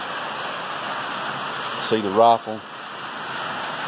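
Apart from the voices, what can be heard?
moderate rain falling on a metal roof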